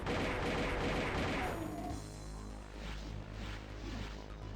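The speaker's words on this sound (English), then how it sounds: "I can hear what sounds like a gun" Gunfire in the video game Doom: a dense burst of loud rapid shots at first, then heavier thuds and booms echoing over a droning game background.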